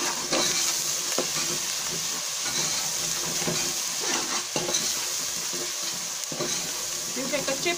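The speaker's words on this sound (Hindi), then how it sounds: "अब लहसुन को थोड़ी देर भून लेंगे।" Garlic paste and onions sizzle steadily in a pan for black masoor dal, with a loud continuous frying hiss and repeated scraping stirs of a spoon throughout.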